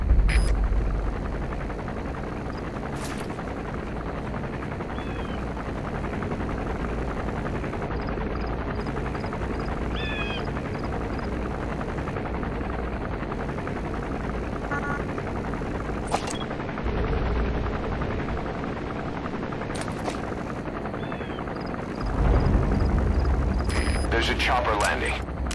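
A gunship helicopter in Metal Gear Solid V thrums steadily through the scene, with scattered gunfire bursts and game effects, while a voice talks over much of it.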